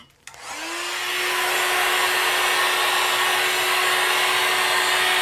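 Heat gun switching on with a brief click, then blowing a steady, loud whooshing airflow with a constant whine, used on alcohol inks in epoxy resin artwork, running alone without talk.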